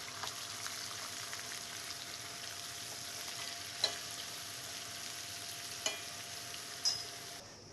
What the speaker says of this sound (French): Nous ajoutons l'oignon émincé. Alors l'oignon doit suer mais pas colorer.